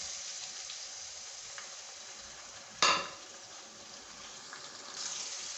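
Tomatoes dropped into softened onions frying in a pan give one sharp sizzling burst midway, over a faint, steady background hiss of cooking; quiet overall with no talking.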